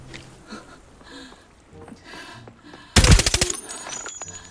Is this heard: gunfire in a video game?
yes